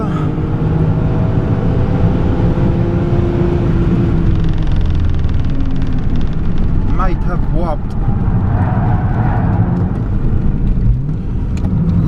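A 1994 Toyota Mark 2 Tourer V JZX90 lapping the Suzuka Twin circuit on a track day, its engine a loud, continuous close drone with shifting pitch, and a voice talking over it.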